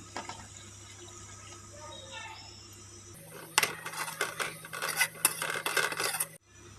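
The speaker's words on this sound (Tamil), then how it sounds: "தண்ணி ஊற்றிக்கலாங்க" Water splashes and pours steadily into a metal pan, a rushing, clattering stream lasting a few seconds before stopping abruptly.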